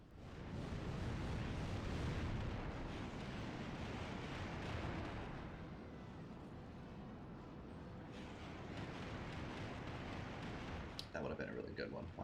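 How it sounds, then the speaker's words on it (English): Magic meteor shower explosions strike a battlefield during the Battle of Xu in the video game Kessen 2, a loud sustained roaring rumble that eases after a few seconds, keeps churning, and ends with brief crackling bursts. "let's do a meteor shower right there"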